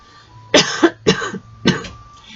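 Three harsh coughs in a row, evenly spaced and close, each a short raspy burst with a brief trailing rasp.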